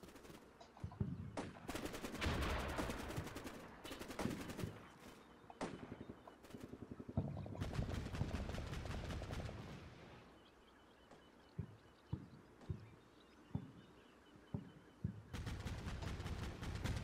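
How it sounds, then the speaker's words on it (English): Heavy gunfire during an ambush: dense bursts of automatic fire alternating with single sharp shots and brief lulls, loud and close, with no talking over it. "Shooting at them."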